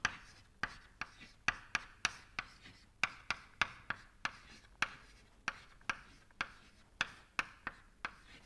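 Chalk or marker strokes on a lecture board while thermodynamics equations are written out: a quiet, close, irregular series of sharp taps and short scratches, roughly two per second, with no speech.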